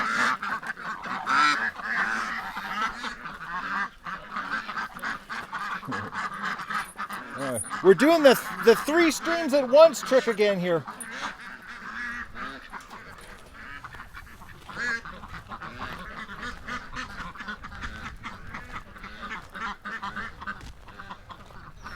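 Ducks, including a Muscovy male, honk and quack in a busy burst partway through, with a person talking to them before and after.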